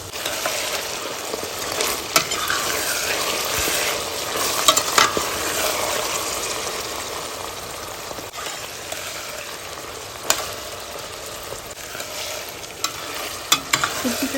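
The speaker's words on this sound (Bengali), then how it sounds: "সবজিটা ভেজে নেওয়া হয়ে গিয়েছে" Beans and mixed vegetables with salt and chilli flakes stir-fry in oil for fried rice, a dense close sizzle broken by frequent scraping and clinking stirs of a spatula throughout.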